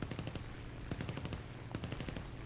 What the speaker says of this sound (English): Do some long-range shots there.